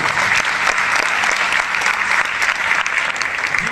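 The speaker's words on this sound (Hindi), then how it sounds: "मैं चाहता हूँ एक बार जोरदार तालियां हो जाए वेस्टीज की।" Loud, energetic applause from a large audience, a thick continuous wash of many hands clapping close by, steady from start to finish with no speech on top.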